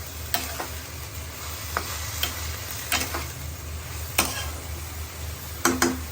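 Broccoli fries in a pan while a seafood salad is finished, giving a steady close sizzle with scattered sharp ticks and spatters from stirring, and no voices.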